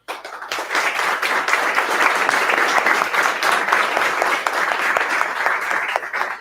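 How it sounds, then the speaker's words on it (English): Meetup audience applauding its host inovex at a PyMunich tech gathering, a steady, dense round of many hands clapping, close and sustained throughout. "So please, some applause."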